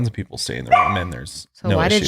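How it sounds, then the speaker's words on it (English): A three-month-old puppy barks and yips in the background indoors while people talk over it in a close conversation. "Sorry if you can hear our dog barking."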